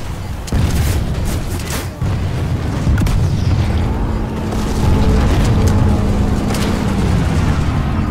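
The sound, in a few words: explosion of a destroyed generator in a video game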